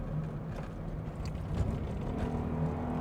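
The engine of an Alfa Romeo Alfasud Sprint held steady at around 5000 RPM, a smooth, continuous drone heard from inside the car on a winding road, fairly quiet and without talk.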